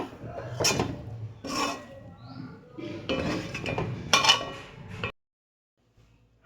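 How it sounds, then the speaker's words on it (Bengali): A metal lid is set onto a cooking pot of chicken pulao, with several clattering knocks and scrapes in bursts over about five seconds, close and moderately loud, then silence. "এবার আমি ঢাকা দেবো ওটা"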